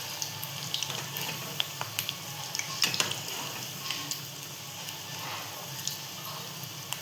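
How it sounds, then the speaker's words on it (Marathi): Colocasia leaf pakodas frying in hot oil, a soft continuous crackle and hiss with scattered small pops, fairly quiet and steady, no speech. "आपल्या इथे तेल गरम झालेलं ना, म्हणून ते लगेच असे फ्राय झालेले आहेत."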